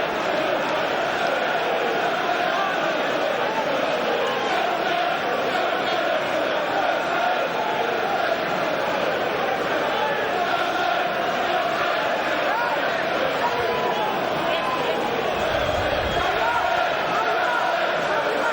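A packed football stadium crowd at a Premier League match between Liverpool and Chelsea keeps up a constant loud roar, broad and continuous from start to finish, with a commentator's voice partly under it.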